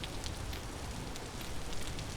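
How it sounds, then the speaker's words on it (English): Rain in the video game Vintage Story makes a steady, soft pattering hiss of drops on surfaces, even and continuous, with no voices. "It's raining right now"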